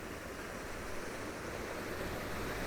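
Waterfall in Glen Etive, Scotland, a steady broadband rush of falling water that holds even and continuous throughout, moderately loud and unbroken, with no voices.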